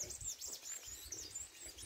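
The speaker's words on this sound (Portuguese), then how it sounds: "Os passarinhos cantando." Small birds chirping and singing in a home garden with mango and avocado trees, faint high tweets repeating over soft outdoor ambience.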